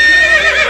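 A loud, close horse neigh rings out in a single rising and falling whinny, used as a sound effect in a comic sketch, with no talking over it.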